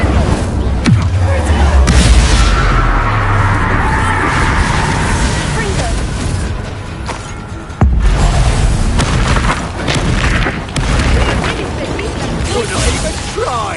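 An Incendio fire spell erupts in Hogwarts Legacy, a loud booming blast with crackling bursts and a second sharp impact, while a voice talks over the combat.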